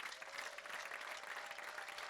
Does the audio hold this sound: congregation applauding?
yes